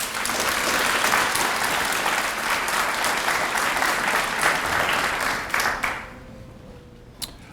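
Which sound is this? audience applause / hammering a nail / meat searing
audience applause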